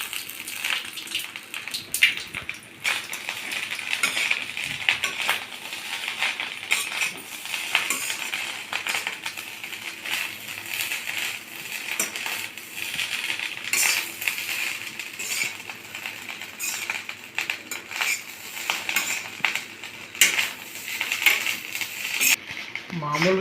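Egg rice being stirred with beans and carrots in a pan, Indian hotel-style: continuous metallic scraping and clinking of a spatula against the pan, with a voice occasionally speaking over it.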